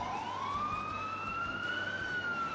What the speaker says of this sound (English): just kind of cool, the sirens going through the city